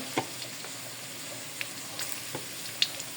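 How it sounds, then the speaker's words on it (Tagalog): Garlic is sautéed in a pan for a chayote and carrot dish with tuna, making a faint, even sizzle with a few sharp pops and ticks now and then and no speech. "Okay, gisa natin."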